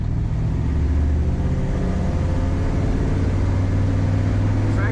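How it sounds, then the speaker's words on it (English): A 1957 Ford Ranchero's engine runs steadily at a close, even idle, with a deep continuous rumble and no voices. "This car starts and runs very nice."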